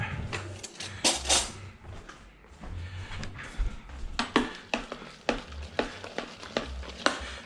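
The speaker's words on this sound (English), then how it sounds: "I just need a spoon to stir it" A spoon stirs food in a bowl at close range, producing soft scrapes and a run of sharp clinks and taps that grow more frequent toward the end, with no talking.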